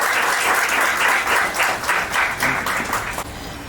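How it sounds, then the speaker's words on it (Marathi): Audience applause at a community event, a crowd clapping loudly in pulsing waves that build and then ease off, with no talk over it. "जोरदार टाळ्या वाजवा."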